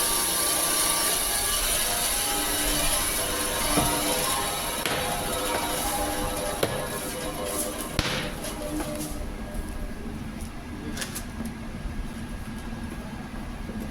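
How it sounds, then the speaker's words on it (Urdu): A meat cutter saws through bone-in mutton at a fresh meat shop in Riyadh, a steady close grinding rasp with a few sharp clicks and knocks along the way. "ابھی یہ کٹر کے ذریعے اس کو کاٹیں گے"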